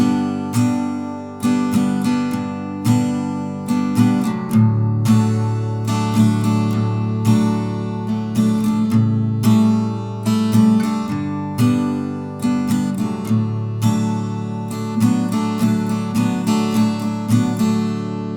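Acoustic guitar strums the chorus chord progression of a song, bright rhythmic strokes with regular accents and chord changes, played up close without any singing or talk.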